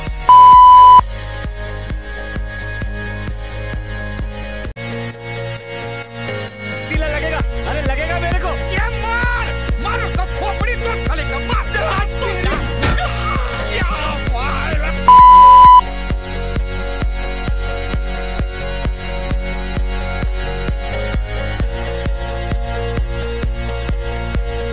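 Electronic phone ringtone of beeps and tones over a steady musical backing in a comedy sketch, with two short sharp beeps standing out loudly at the start and again midway.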